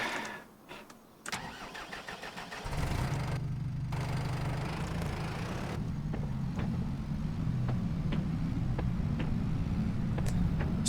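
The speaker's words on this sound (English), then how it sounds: "It's going up the gears pretty well." Tractor engine in a farming video game, with a Montana farm setting: a few clicks, then the engine starts at about 2.5 seconds and drives on with a steady, loud rumble, with occasional sharp clicks on top.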